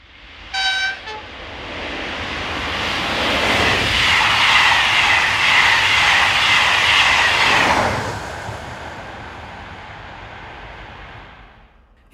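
Locomotive 26148 pushing from the rear of a Strasbourg to Basel passenger train at a town station, a short horn toot at the start, then a swelling roar of engine and wheels that peaks mid-clip and fades away.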